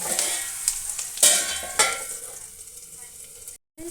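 Salted onions sizzle and fry in a pan, a steady close hiss with a few sharp stirring scrapes and clicks of the utensil against the pan.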